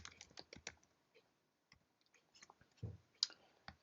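Someone types a command on a computer keyboard in a macOS terminal. The keystrokes are faint, sparse and irregular clicks, heard close up in a quiet room.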